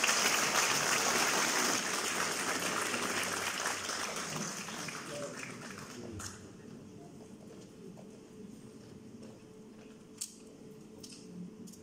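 An audience at a music society concert for the 200th anniversary of Greek independence claps to welcome a general. The applause starts full, fades away over several seconds and leaves a quiet room with a few scattered sounds.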